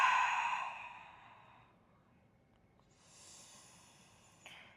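A long breathy exhale during a yoga flow, loud at first and fading over about two seconds, followed by a softer second breath and a small click near the end.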